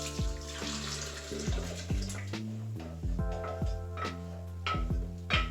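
Liquid hoisin sauce mixture with solid chunks is poured gently from a pan into another container, a close, steady gurgling trickle with repeated glugs and splashes.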